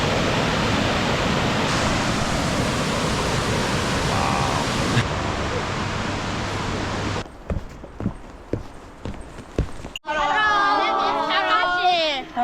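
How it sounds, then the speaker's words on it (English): Roaring waterfall at a massive lake in Nikko, Japan, a loud steady broadband rush heard up close for several seconds before it cuts away to quieter scattered clatter and then people chattering. "I don't think I've ever been as close to a waterfall start as"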